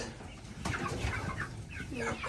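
Chickens cluck and murmur inside a metal shed coop, several close soft clucks and a few short calls over a quiet background, with a brief faint flutter.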